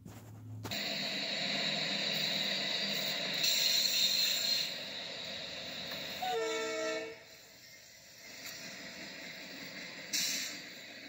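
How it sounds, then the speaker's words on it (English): A scrapped CSX locomotive rolls past with a loud, steady rumble and rail noise, its horn sounding a short blast partway through, then the train noise continues with a brief surge near the end. "Number 5, a scrapped CSX locomotive."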